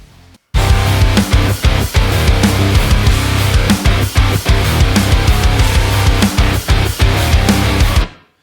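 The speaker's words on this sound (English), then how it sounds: "our guitar track sounds like this." Mixed rock guitar track, dense distorted chords driving continuously for about eight seconds with rhythmic accents, loud and full, no voices over it.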